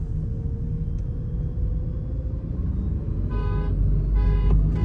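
A car horn sounds in two short blasts near the end, signalling the start of a drag race between a tuned Skoda Slavia 1.0L sedan and a tuned Kushaq 1.0L SUV, over a steady low engine rumble.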